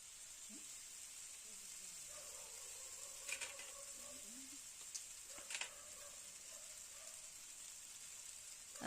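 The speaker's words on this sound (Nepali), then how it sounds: "मैले काँटाले दुईटा काँटाले चलाउँदै छु।" Faint sizzling of vegetable chowmein in a pan, with occasional soft scrapes and clinks from two forks stirring the noodles, steady hiss running throughout.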